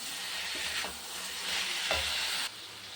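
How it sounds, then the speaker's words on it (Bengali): Puti fish is stirred into a pan of cooked spice masala, giving a steady close sizzle and frying hiss with soft stirring scrapes throughout and no voices. "মাছটা দিয়ে একটু নাড়াচাড়া করে একটু জল দিয়ে দেবো"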